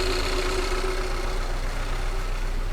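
A car engine with a cylinder misfire idles steadily, a constant low droning hum with a faint whine, close and even throughout, no voices.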